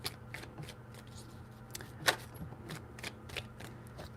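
A deck of tarot cards is shuffled nearby in quiet, repeated papery riffles that sound at a steady, uneven pace over a faint background hiss.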